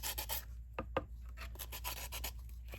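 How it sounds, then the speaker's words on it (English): Steady back-and-forth rasping of sandpaper on a resin 3D print, close and continuous with a couple of sharper scrapes, no talking. "So I'm just going to sand off all of this back part until it feels nice and"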